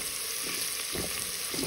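Onions with a pinch of salt fry in a pot for lentil soup, a soft steady sizzle close by with a few faint stirring bumps, quiet and without speech.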